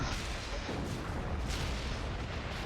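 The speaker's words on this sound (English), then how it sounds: "More explosions." Explosions in the video game Tales of Arise come through as a dense, continuous roar of booms and rumble, loud and unbroken across the whole stretch, with no clear voices over it.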